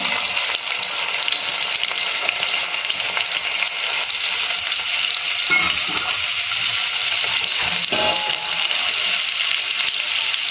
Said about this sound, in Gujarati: સમારેલી ડુંગળી છે એને આપણે આમાં એડ કરી દઈશું.